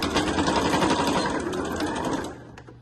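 A sewing machine runs a fast, steady stitching whir as it backstitches the seam of a large beach bag, loud and close, then slows and stops near the end.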